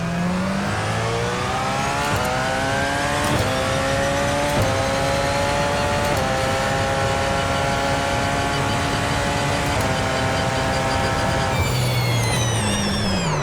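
A pack of race cars at the Le Mans race start in a video game, engines roaring loud and steady as they climb through the gears with regular upshifts and no speech.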